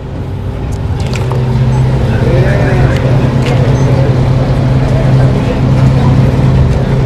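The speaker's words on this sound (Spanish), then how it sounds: "el sistema hidráulico del camión recolector de basura está alimentando los 2 cilindros hidráulicos que impulsan la isla soterrada" A garbage truck's hydraulic system powers two cylinders to lift an underground recycling bin island from its pit, giving a steady loud low mechanical drone with engine rumble throughout, near and continuous, with no speech.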